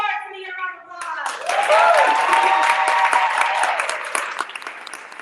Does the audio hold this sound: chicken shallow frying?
no